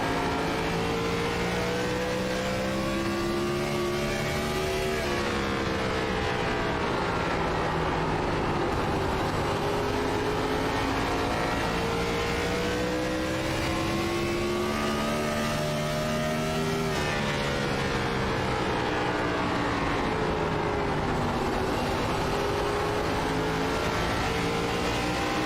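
An in-car view of a race car at Richmond in a throwback cup racing game, its engine droning loud and close, rising and falling in pitch as it revs through each lap with no voices.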